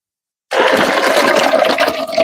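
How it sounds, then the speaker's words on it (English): Water poured into a cup inside a van, a steady close splashing gush that starts abruptly and runs for about two seconds with no talk over it. "that's water I'm pouring into a cup"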